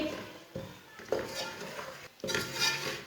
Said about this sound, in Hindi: बेसन को हमने भूनना है। अब 3 मिनट के लिए बेसन को पका लेंगे।